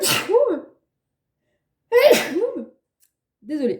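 A woman sneezes twice, each a sharp, close burst with a falling vocal tail, separated by silence, then briefly speaks afterward.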